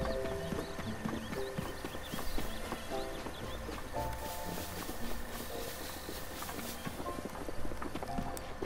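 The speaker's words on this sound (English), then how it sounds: "Let's see if we can call up our horse." Horse hooves clip-clopping in Zelda: Breath of the Wild, a steady trotting rhythm under ambient game music, fairly quiet and with no talk.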